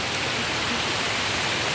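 River water rushing steadily in the countryside, a loud, continuous broadband wash with no pauses, heard up close.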